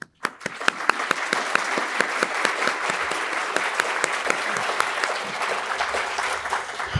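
A conference audience applauds its sponsors with sustained, dense clapping from many hands in a hall, starting abruptly and holding at an even level for several seconds.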